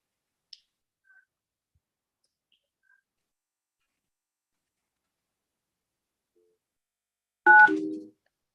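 Telephone keypad dial tones sound during a video-conference court hearing: a short burst of stacked beeps comes after near silence broken by a few faint clicks.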